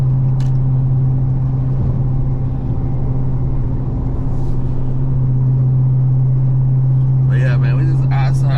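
Dodge Scat Pack cars drive in traffic with a steady, deep engine drone and rumble close by, alongside passing-vehicle noise and a brief burst of sound near the end.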